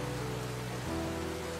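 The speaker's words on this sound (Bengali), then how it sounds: "বৃষ্টিটা এখন ভালোই জোরে পড়ছে।" Heavy rain falling in a steady, dense hiss with no distinct drops, joined by a low droning tone that shifts pitch partway through.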